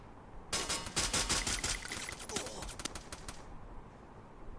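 Rapid automatic gunfire from a mobile shooter game during a ranked one-versus-four match, several dense bursts over about three seconds that stop abruptly into quiet.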